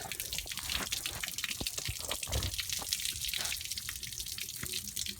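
Coolant water draining from the cooling system of a 2008 BMW 535i during a water pump job, a steady splashing, trickling flow with drips, close and continuous without talk.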